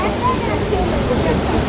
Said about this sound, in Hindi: और दूसरा मेन वाटरफॉल यहाँ का ये है, जो ये पानी गिर रहा है